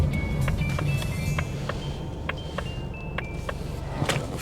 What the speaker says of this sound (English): Blinker sounds kind of slow.